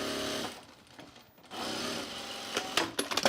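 A sewing machine stitches the center front seam of a shirt in bursts, running steadily, pausing briefly, then resuming with a few sharp clicks of fabric handling toward the end.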